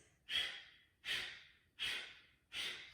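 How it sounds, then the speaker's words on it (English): Four sharp, forceful nasal exhalations of breath of fire yogic breathing at a steady pace, each a loud breathy burst fading away, with no talking. "we'll do a little bit of breath of fire to begin the practice today"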